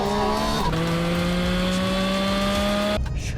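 A Porsche 911 Carrera 4S driven hard, its engine note climbing steadily through the revs with a brief dip at a gear change, loud and continuous, then cutting off near the end.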